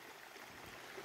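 A creek running high after heavy rain gives a steady, broad rushing wash of water, close and continuous with no voices.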